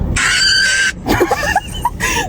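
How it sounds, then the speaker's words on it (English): A person reenacts a terrified scream, a loud, sustained high-pitched shriek lasting close to a second, followed by a breathy, wavering voiced cry and another shorter high note. "this is the scream that I let out"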